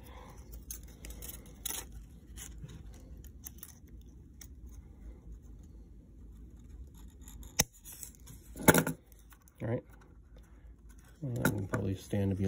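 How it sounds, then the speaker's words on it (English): Scissors trimming the ears off a Nason clutch during construction, a few sharp snipping cuts close to the mic amid quiet handling, with a voice speaking near the end. "Last step is then to trim these ears off."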